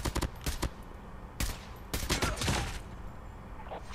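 Gunfire in the mobile shooter Call of Duty Mobile: loud bursts of automatic fire and single shots in quick clusters, with ringing echo and game effects between them, no talking.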